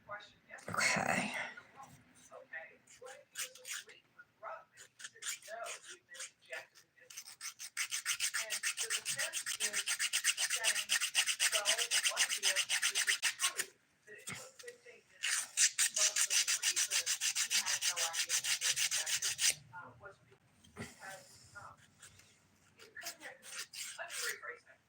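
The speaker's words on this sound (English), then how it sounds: "Have you guys ever had a nail pop off when you're still filing like that?" A nail file rasps against a fingernail in two long stretches of rapid, close back-and-forth strokes, with soft talk in the gaps between them.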